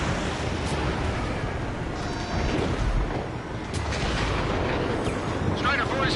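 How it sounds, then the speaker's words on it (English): A missile strikes an aircraft in Ace Combat 7 with a dense, rumbling explosion that fills the whole stretch, loud and continuous, with crackling bursts layered over a heavy low roar and faint radio chatter beneath it. "Missile hit."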